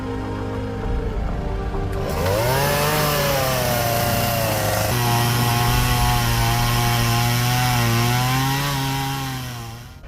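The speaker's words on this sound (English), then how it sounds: "take a chainsaw and cut off the end of that" A chainsaw roars to life and runs steadily for several seconds, loud and close, its engine pitch rising and wavering as it cuts into a log being used for elevation on an off-road recovery hill.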